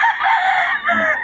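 A rooster crows loudly and close by, one drawn-out call lasting just over a second with a brief dip near the end, heard on its own.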